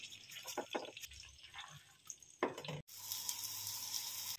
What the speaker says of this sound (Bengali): অলিভ অয়েল আর বাটার একসাথে খুব ভালোভাবে মিশিয়ে নিয়ে এইবার কর্নফ্লাওয়ারে মাখানো চিকেনটা খুব ভালো করে ভেজে নিচ্ছি।